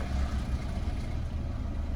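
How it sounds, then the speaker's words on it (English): A Citroen C1 engine idling right after being started following an oil change, a steady low rumbling hum close by, without talking. "And then start the engine."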